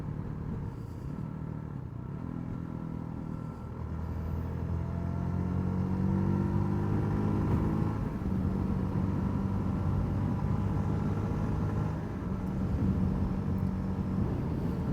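A GD250R motorcycle cruises in sixth gear on a freshly paved road, its steady engine hum and wind rumble continuous and close, with no talking.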